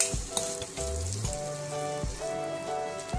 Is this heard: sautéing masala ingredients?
yes